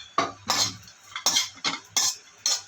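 Spoon scraping and stirring dates in ghee in a metal pan for homemade makhana dry fruit laddoos, five distinct bursts of clinking, scraping strokes in an uneven rhythm, close and fairly loud with no talk.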